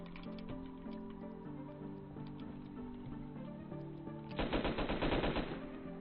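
Rapid bursts of silenced submachine gun fire in an old MMO shooter game, a dense flurry near the end following steady game music and effects.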